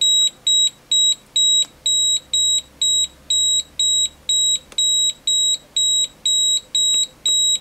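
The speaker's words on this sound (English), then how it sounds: "activate the bar graph and the display and the beeper. But the beeper's fast" Keysight U1282A handheld multimeter beeper sounding a rapid, steady series of short, sharp electronic beeps, about two per second, close and loud with no other sounds.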